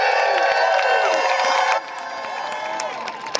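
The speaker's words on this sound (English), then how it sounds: "Give yourself a round of applause." A protest march crowd applauds and cheers on the street, loud whoops and shouting voices over clapping that is dense at first and then drops to a thinner, scattered level after about two seconds.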